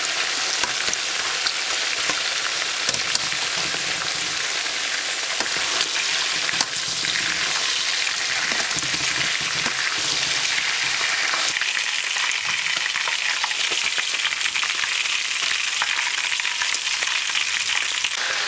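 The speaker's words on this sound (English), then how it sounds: "I have nearly finished frying all the mutton pieces or lamb pieces" Mutton pieces sizzle and crackle loudly in a hot pan with onions, a dense continuous frying hiss with occasional stirring clinks.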